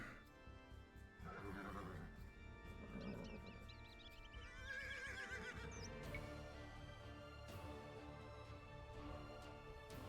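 Horses neighing and whinnying in the Age of Empires II real-time strategy game, several loud whinnies layered over a busy battle soundscape with faint clip-clop of hooves.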